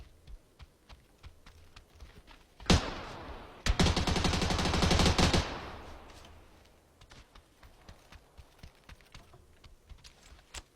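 PUBG video game gunfire heard alone: a single sharp shot, then a rapid automatic burst of about two seconds, with quiet clicking keyboard-like taps throughout.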